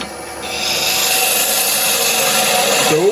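Wood is being turned into a goblet on a lathe, a loud, steady cutting hiss over the hum of the spinning machine that holds unbroken for the whole moment, with no talking.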